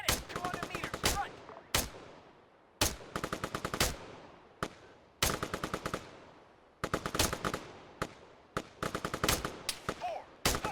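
Gunfire in an Arma 3 firefight: repeated bursts of automatic fire broken by single sharp shots, loud and close, with echoing decays between bursts and no speech.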